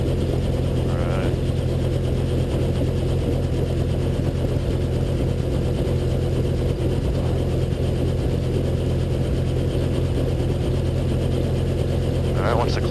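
A Robinson R22 helicopter's clutch engages during start-up, giving a steady mechanical whirring and ratcheting drone with a constant engine hum that runs unbroken throughout, close and fairly loud.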